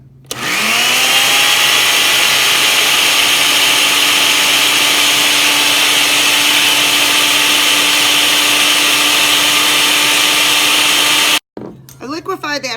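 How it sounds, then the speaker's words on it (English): A blender liquefies a hot dog, its motor whirring steadily and loudly for about eleven seconds, then cutting off abruptly, leaving brief quieter clatter and noise. "I liquefied that hot dog for about 5 minutes in the blender."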